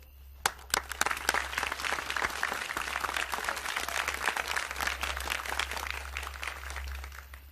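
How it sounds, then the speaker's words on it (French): A crowd breaks into sustained applause, many hands clapping in a dense, steady patter that swells and holds for several seconds against a low hum. "Moi, on m'applaudit."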